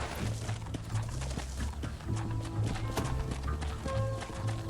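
Horse galloping in the Red Dead Redemption video game, with a steady, close, rhythmic clip-clop of hooves over a low rumble and faint tonal game sounds.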